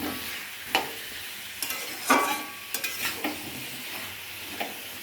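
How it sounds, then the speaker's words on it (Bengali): Mutton being stir-fried (kosha) in a pot, with a run of scattered scrapes and clatters from stirring over a low sizzle, close and moderately loud, with no voices. "এই যে মটন কষা হচ্ছে"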